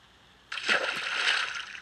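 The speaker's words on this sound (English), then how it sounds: "I'm gonna attempt to jump in the water and not miss and die" A Minecraft player jumps and splashes into water, a single bright splash that rises abruptly and washes on in a sustained sloshing spray, close and clear with no talk.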